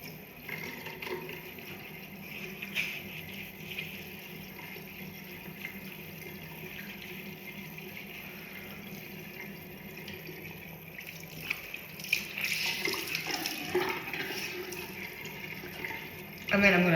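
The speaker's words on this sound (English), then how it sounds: "And now I'm going to wash my face in my lukewarm water" Lukewarm water runs steadily from a tap into a sink for face washing, a continuous close hiss and splash that swells louder near the end.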